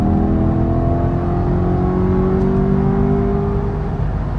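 A car's engine hums steadily and climbs gently in pitch as it gathers speed while driving, a continuous close cabin drone with no voices.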